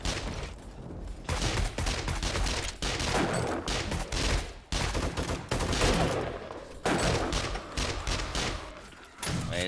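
Gunfire in the survival game 7 Days to Die, with loud dense bursts of shots running almost nonstop and brief gaps between volleys.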